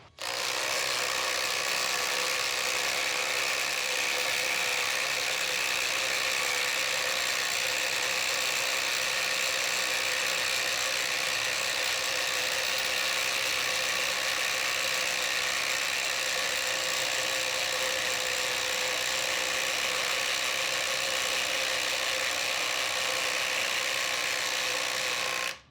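A compact Makita driver sinks a long screw into a treated 6x6 wooden post with no pilot hole, a steady, loud motor drone that runs unbroken for nearly half a minute with no talking.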